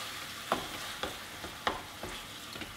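Tomatoes and tomato paste being stirred into a sizzling bolognese in a pan, a steady soft frying hiss broken by a few light spoon scrapes and taps.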